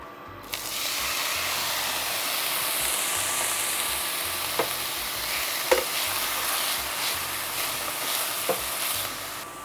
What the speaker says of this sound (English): I'm going to saute these until the onions become clear and slightly browned